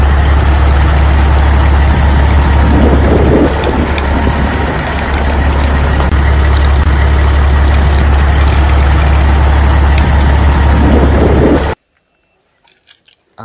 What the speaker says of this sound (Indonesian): Ada truk molen berwarna kuning.